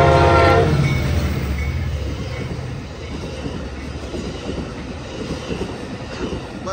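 An Amtrak Capitol Corridor diesel passenger train led by an F59PHI locomotive roars past close by in Oakland, California, its horn blaring loudly at the start, then rumbling and clattering wheels as the five cars go by.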